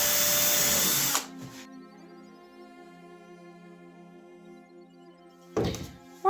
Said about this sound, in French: Donc en pensant bien à d'abord faire un trou pour pas faire exploser les médiums.